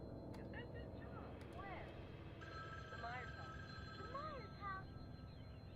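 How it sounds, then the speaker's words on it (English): A telephone rings inside a horror video game: repeated electronic ringing bursts over a low background hum, fairly faint, with speech overlapping parts of it. "I hear a phone. Let me answer."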